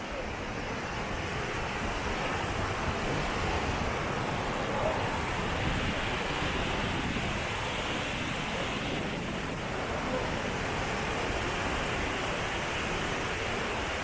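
Kheerganga waterfall on a mountain trek in the Kullu region, heard as a steady, loud, broadband roar of rushing water that stays constant and close throughout, with no clear talk over it.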